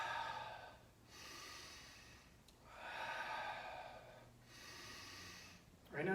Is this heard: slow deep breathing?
yes